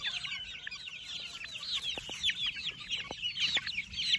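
Chicks in a poultry farm brooder, a second batch of young birds, giving a steady stream of high, overlapping peeps and soft clucks, close and fairly loud, with a few sharper calls standing out and no talking.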